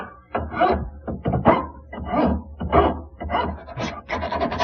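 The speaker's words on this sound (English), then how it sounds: "Now this is where my magic cut file comes in." A hand cut file shapes a wooden Windsor chair part with about a dozen close, rasping strokes in an uneven rhythm, each a short scratchy burst over a low background hum, with no talk.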